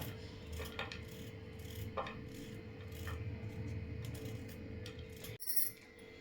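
Scattered short knocks and scraping cuts of a knife chopping coconut into small pieces, hard, irregular and close, with a sharp clatter near the end.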